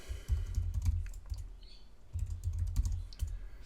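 Close, quiet typing on a computer keyboard, with bursts of rapid key clicks separated by short pauses.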